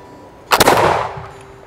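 A smoothbore musket fires a single loud, close shot with a sharp crack and a long fading boom that rings for about a second against a quiet outdoor background.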